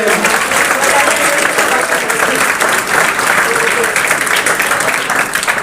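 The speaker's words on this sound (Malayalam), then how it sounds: "और उसी सारे मिलके अपना बुजुर्ग पिता की तालियां बजा के" A crowd at a church mission gathering applauds an elderly father with steady, loud, continuous clapping that fills the whole stretch without a break.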